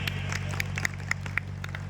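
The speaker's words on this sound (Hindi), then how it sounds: "इनके लिए भी तालियां हो जाए जोर से एक बार।" A small audience at a public event claps in a sparse, uneven rhythm, individual hand claps standing out over a steady low hum, fairly quiet and brief.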